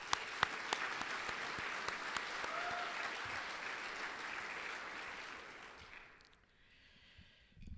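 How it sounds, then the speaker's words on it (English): Audience applause at an AI summit, steady clapping from a crowd that holds for about five seconds and then fades out, leaving quiet room tone with a few stray claps. "I'd like to give him a round of applause"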